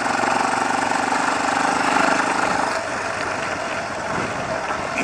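ATV engine droning steadily as the rider crosses a stretch of whoops on a trail, a close, loud, throbbing motor note with slight dips and surges in level.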